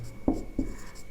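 Chalk or marker writing on a board during a Hindi grammar lesson: two short scratchy strokes, close and quiet, with no talking.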